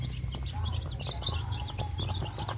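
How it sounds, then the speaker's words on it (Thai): Young Burmese-breed chickens on a farm give a continuous mix of high peeping chirps and soft clucks, with a low rumbling background throughout. "ไปให้อาหารไก่หนุ่มแล้ว ไก่หนุ่มไก่สาว"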